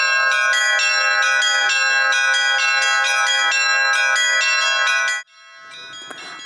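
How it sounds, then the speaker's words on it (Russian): Church bells at the Uspensky Zheltikov monastery in Tver ring loudly in a rapid repeating peal for about five seconds, then stop abruptly, leaving faint background noise. "Колокольный звон"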